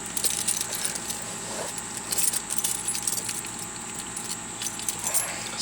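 Mazda car keys for a 1999 Mazda Protege ES jangle and clink close up in bright, continuous metallic rattles with a few sharper shakes.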